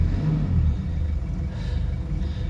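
A car engine, still slightly cool and running on a 50/50 mix of diesel and vegetable oil, idles with a steady, loud, low rumble close by and no talking.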